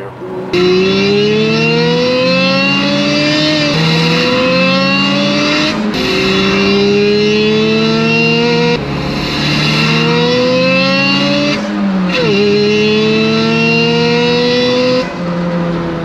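A 1989 supercharged Toyota MR2 is revved in a steady series of rising climbs through the gears, each pull dropping sharply before the next, loud and continuous from inside or close to the car.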